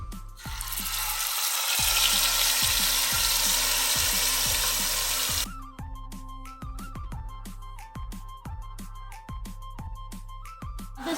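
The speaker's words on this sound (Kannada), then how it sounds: "ಮ್ಯಾರಿನೇಟ್ ಮಾಡಿದ ಚಿಕನನ್ನು ಇವಾಗ ಹಾಕೋದಕ್ಕೆ ಎಣ್ಣೆಗೆ" Marinated chicken sizzles loudly in hot oil in a wide pan for about five seconds, then the hiss drops away, leaving a steady run of regular mechanical ticks.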